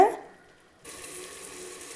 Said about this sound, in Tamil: நம்ம ஊற வச்சுருந்த அரிசியை சேர்க்கலாங்க.